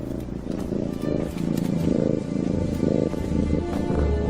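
Donkey from the animated film Shrek 2 purring, a steady rumbling purr in rapid pulsing waves, close and continuous throughout with no other sound over it.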